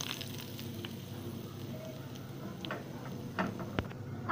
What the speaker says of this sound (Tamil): இப்போ கடுகு வந்துச்சு, நம்ம கருவேப்பிலை போட்டுக்கலாம்